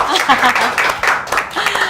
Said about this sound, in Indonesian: kita berikan tepuk tangan lagi juga